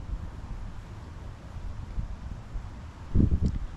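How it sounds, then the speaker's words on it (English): An outdoor gust of wind buffets a microphone in a garden, a low, broad rumble that swells briefly near the end over steady soft background noise. "we just had a gust of wind"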